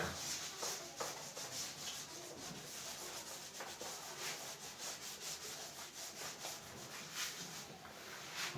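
Writing being rubbed off a classroom board, a soft continuous scrubbing with quick back-and-forth strokes, faint and close, with no talking.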